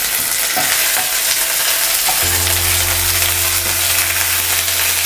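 Green chillies, curry leaves and ginger garlic paste sizzling in hot oil for tricolor fried rice, a loud, continuous crackling hiss close up, with a steady low hum joining midway.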